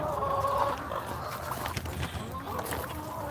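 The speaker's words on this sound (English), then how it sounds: "Chickens are all fighting over their strawberries, as they should." Backyard homestead chickens squabble over strawberries, letting out close, throaty clucks and squawks in busy bursts, loudest at the start and then continuing more loosely.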